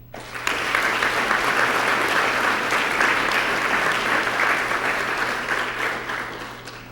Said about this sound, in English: Please join me in giving a warm round of applause and gratitude and appreciation to the folks that I mentioned.